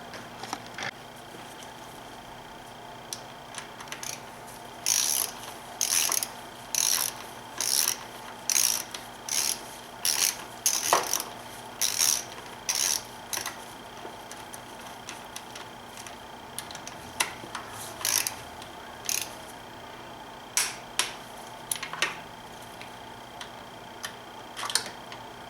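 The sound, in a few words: ratchet wrench tightening BMW N52 valve cover bolts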